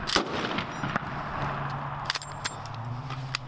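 Gunfire crackles during an army training exercise, a few sharp reports plus a brief rapid burst over a steady rumbling backdrop, at moderate distance.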